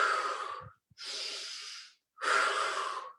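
Three deep, audible breaths during a seated rowing-boat mindfulness exercise, each a long rushing inhale or exhale heard close up, separated by short silent pauses, with no speech.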